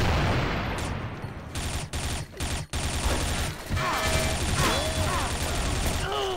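Gunfire in the video game XSHOT: heavy bursts of rapid shooting, broken by a few sharp gaps and cuts, then more shots mixed with whizzing sweeps toward the end.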